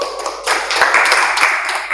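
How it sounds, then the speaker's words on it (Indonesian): Audience clapping during a small-group discipleship teaching session, starting abruptly after a brief pause and continuing as a steady, fairly loud patter of many hands to the end. "Kasih tepuk tangan."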